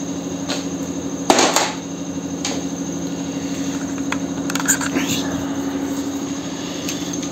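A pneumatic air chisel cuts a bolt and its nut. A steady compressed-air hiss and hum runs throughout, with a sharp metallic strike near the start and a few lighter knocks later.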